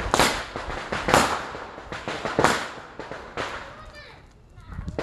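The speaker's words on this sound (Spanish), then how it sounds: "Estos son los últimos cohetes que tiene lo que es la parte baja." Firecracker rockets burst in rapid crackling volleys as the devil effigy burns at the Quema del Diablo tradition in Guatemala, with several loud sharp clusters, close by, over people talking.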